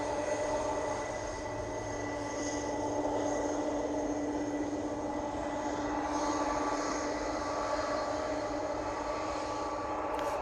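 A One Air airliner approaching East Midlands Airport gives off a steady, fairly quiet engine roar and a whining drone that stays even from start to finish.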